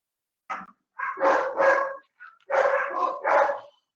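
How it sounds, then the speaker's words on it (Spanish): Dogs bark in a series of sharp, loud yaps and woofs, one short bark then two pairs of barks separated by brief pauses, close by and unaccompanied by talk. "Disculpen por los ladridos"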